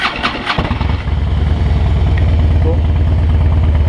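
A Harley-Davidson motorcycle in Cyprus, hard to start the day before, cranks with a brief clatter, then catches and settles into a steady, close, loud low idle rumble.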